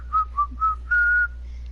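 Someone whistles a short tune: three quick clear notes followed by a longer held note, close and clean over a faint low hum, with no speech.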